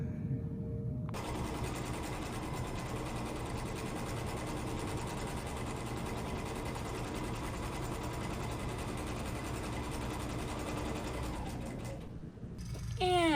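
Sewing machine running steadily and close up while stitching RV curtains, one continuous mechanical whir that lasts several seconds and then stops.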